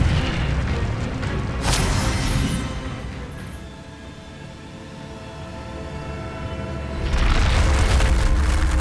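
In the video game Hogwarts Legacy, an Incendio fire spell goes off in a deep whooshing boom. A lower rumble follows, and then a second heavy burst swells up near the end.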